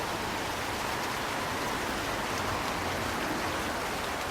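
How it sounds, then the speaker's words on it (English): Rain falls steadily and densely, an even hiss of drops that stays constant and moderately loud throughout with no audible easing, and no talk. "The rain slackens off again as the darkest clouds move on."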